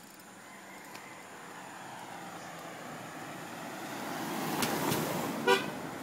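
A car passes along a road in the Philippines, its engine swelling as it nears, then two short horn toots near the end.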